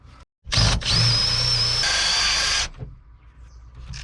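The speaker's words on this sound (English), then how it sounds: "now I just have to re-drill with the hole saw that hole" A hole saw bores through wood in one continuous burst of about two seconds, a loud, close, high-pitched grinding whine that starts abruptly and cuts off sharply, with quiet handling noise on either side.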